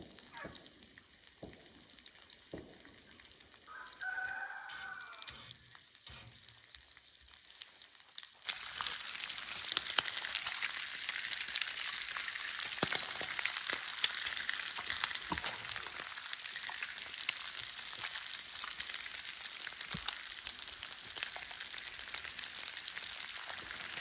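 Bacon sizzles on a duck blind cooktop during seasoning, starting with faint crackles and occasional pops, then breaking into a steady, loud frying hiss that continues to the end.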